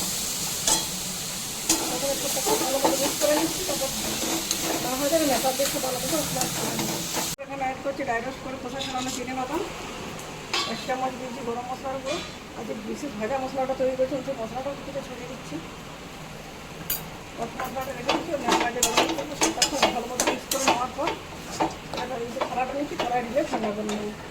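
Banana flower and potato sautéing in a pan, a steady frying sizzle with stirring scrapes throughout, heard under ongoing talk from a person in the kitchen.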